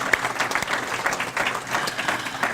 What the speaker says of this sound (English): I'd like a round of applause for the great staff